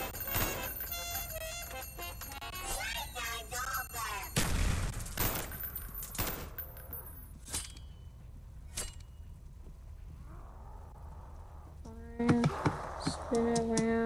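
Machine gun fire in Call of Duty Black Ops zombies mode, with bursts of rapid gunshots and sharp impacts mixed with electronic game tones and ringing jingles, as well as brief talking.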